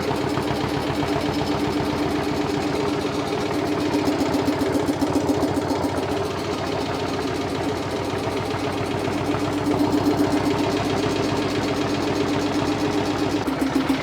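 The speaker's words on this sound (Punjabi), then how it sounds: "ਲੈ ਵੀ ਸਟਾਰਟ ਕਰਦੇ ਆ ਟਰੈਕਟਰ" A Swaraj 720 tractor engine runs steadily at idle, a loud, even mechanical chug that continues unbroken and close by, with no talk over it.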